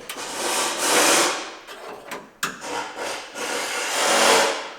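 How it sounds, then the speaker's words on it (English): Tin snips cut sheet metal during rear quarter rust repair on a Datsun 280ZX, giving a rasping, rubbing cut in two long strokes close to the mic, with a few sharp snips and clicks between them. "Using these tin snips."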